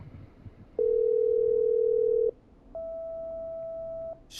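A phone line connecting during a call in a video game gives two steady electronic tones, the first lower and louder for about a second and a half, then a higher, softer tone after a short gap, over faint background hum.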